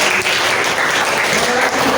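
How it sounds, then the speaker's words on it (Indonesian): Students in a classroom clap together in a loud, dense burst of applause that holds steady for a couple of seconds. "Oke bagus, tepuk tangan."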